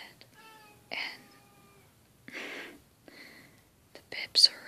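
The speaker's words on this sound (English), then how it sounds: "my cat's meowing and he needs to stop" A cat meows in a room, a short tonal cry early on, heard between soft whispering and a cough, fairly quiet and close.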